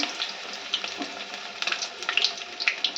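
Steady crackling sizzle of hot oil frying in a pan on a stove, with scattered sharper pops and spits throughout, close and fairly loud, no talking.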